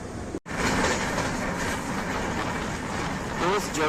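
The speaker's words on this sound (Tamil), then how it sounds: "அதே மாதிரி இப்போ 130 தான் க்ரூஸ் பண்ணிட்டு போயிட்டு இருக்குது நம்ம ட்ரெயின்." Mangalore Superfast Express running at 130 km/h, heard from inside the coach as a steady loud rumble of wheels and rails with a faint rhythmic clatter after a brief dropout at the start.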